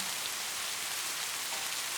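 Steady, heavy rain hisses continuously, a dense even wash of drops with no voices or breaks.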